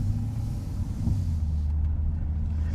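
Low engine rumble from a Corvette C8 fitted with an AWE exhaust as it sets off, a steady deep drone heard from close by with no talking.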